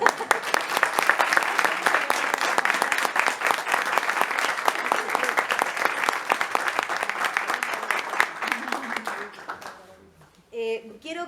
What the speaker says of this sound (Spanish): después de los aplausos para Fabián